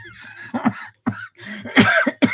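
Several harsh coughs come in quick, uneven bursts, close and loud, with short pauses between them.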